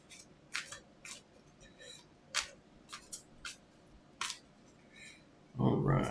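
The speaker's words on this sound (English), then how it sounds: "Let's shuffle this other deck here." A deck of playing cards being shuffled, several short crisp riffling bursts spaced unevenly, close and fairly quiet, ending in a louder broadband rustle.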